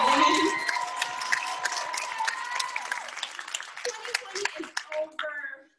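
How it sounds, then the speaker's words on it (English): Women at a church session clap for themselves, a crowded round of applause with some cheering that thins and trails away, voices murmuring as it dies down. "just give yourself a round of applause"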